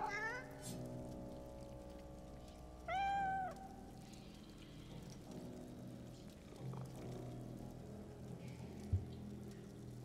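A cat in the video game Divinity: Original Sin 2 – Definitive Edition lets out one clear, close meow amid quiet game ambience and soft background music.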